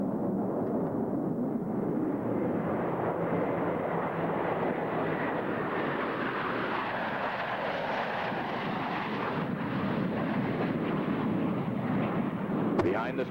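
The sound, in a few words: Blue Angels F-18 jets flying at an airshow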